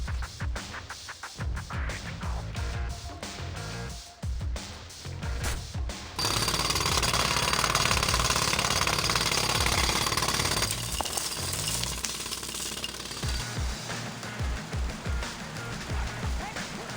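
Rapid mechanical hammering of a drill punching a hole beneath a treatment facility reservoir in the video game TMNT Mutants Unleashed, loud and sustained after an opening stretch of choppier game sounds and music.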